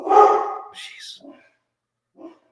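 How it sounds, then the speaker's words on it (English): A dog indoors lets out a sharp bark followed by a couple of softer yelps and a short whine, with quiet gaps between them while a delivery person is at the door. "my dog is loud when there's a delivery person"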